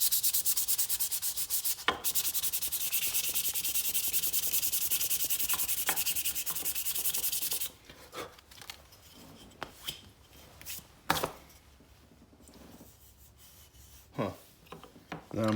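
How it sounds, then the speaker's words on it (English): Sandpaper of 400 grit rubs steadily over a cured CA super glue finish, a loud continuous scratchy hiss for about eight seconds, then breaks off into scattered quieter scrapes and handling knocks. "All right, sand it with some 400 real quick."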